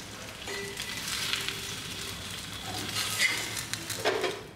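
An egg fries in hot oil in a pan, giving a steady close sizzle and crackle with small pops and stirring scrapes toward the end.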